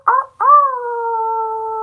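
A person imitates a wolf howl: one short, breathy opening yelp, a brief pause, then a long, steady, close howl that holds its pitch until the end.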